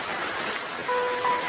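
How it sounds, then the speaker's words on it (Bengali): Cartoon hailstorm with rain, heard as a steady, fairly loud wash of falling rain on a surface, with a thin sustained tone joining partway through and no speech. "দেখো বৃষ্টির সাথে কি যেন সাদা সাদা পড়ছে, ওগুলো শিলা মা"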